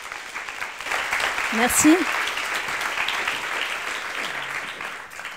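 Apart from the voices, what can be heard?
audience applause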